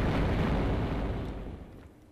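A video game explosion in Tomb Raider 1 booms out as a loud, broad rumbling blast that slowly decays over about two seconds, with no voices over it.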